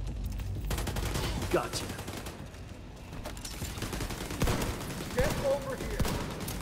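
Gunfire from The Division 2 keeps rattling in dense, overlapping bursts and scattered shots. Someone talks briefly over the steady combat din.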